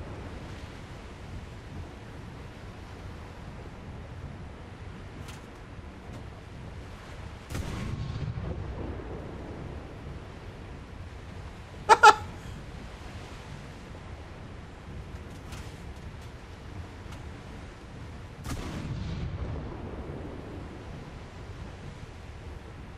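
Naval guns firing during a War Thunder ship battle: a few distant booming shots at intervals, with one sharper crack near the middle, over steady wind and ocean-like background rumble.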